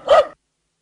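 A single short, sharp dog bark, close and loud, followed by silence.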